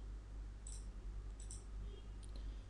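Computer mouse clicking during CAD modeling work, a few sharp, light clicks spaced apart over a quiet room hum.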